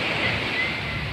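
Ocean waves splash and wash at a beach in Ilihan, Batangas, a loud continuous surf rush mixed with wind over the microphone in a brief burst.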